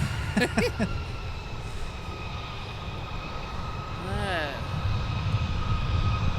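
A SkyWest Embraer 175 LR regional jet rumbles at Minneapolis–St. Paul airport as a steady, moderately distant engine roar, with faint radio-style voices over it.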